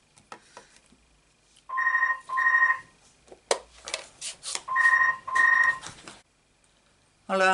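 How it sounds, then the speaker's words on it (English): A telephone rings indoors in two pairs of short electronic double-rings, close and clear, with rustling and handling noises between them and a faint voice at the very end. "Phone ringing."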